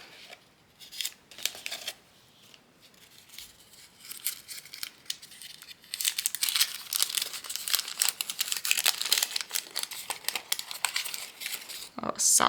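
A package is opened by hand, with crinkling and tearing of wrapping that starts sparse and quiet and grows into dense, busy rustling close to the microphone.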